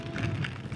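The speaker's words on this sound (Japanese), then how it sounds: "結構な雨やだな。" Heavy rain patters across a helmet-mounted action camera on a Suzuki V-Strom 250 motorcycle ride, a dense, steady hiss of drops mixed with low rumble from wind and engine.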